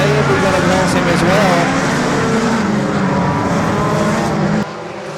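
Front-wheel-drive four-cylinder race cars racing at Thunder Mountain Speedway, a loud continuous engine drone with rising and falling revs as cars pass, under a race announcer's commentary.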